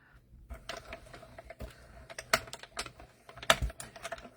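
A small die-cutting machine cutting little paper hangers gives a brief run of soft, irregular mechanical clicks and whirring pulses, close and fairly quiet, with a couple of sharper taps.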